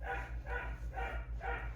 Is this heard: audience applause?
no